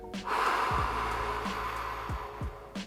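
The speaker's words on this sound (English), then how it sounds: "Deep breath through your nose and out your mouth." A long, airy exhale through the mouth, close and soft, with a few faint clicks and shifting sounds around it.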